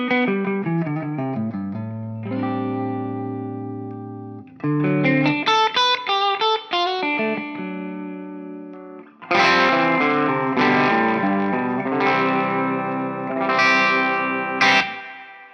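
An Epiphone Power Player electric guitar played through effects, with a mix of sustained chords and melodic runs across three phrases, treated with chorus, slight distortion and reverb. It sounds close and loud with no talk.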